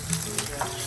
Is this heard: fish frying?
yes